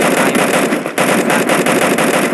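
AK-47 gunfire in the video game Free Fire, a loud close burst of rapid automatic shots that barely pauses before continuing.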